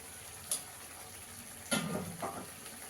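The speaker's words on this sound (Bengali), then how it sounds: "মশলাটাকে ভালো করে কষিয়ে নিতে হবে।" Spice paste with turmeric and Kashmiri chili powder fries quietly in oil, a faint sizzle broken by a few soft scrapes of stirring, with no one talking.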